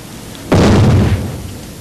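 A balloon filled with hydrogen and oxygen bursts in one sudden, loud explosion that booms sharply and then fades over about a second, with no voices.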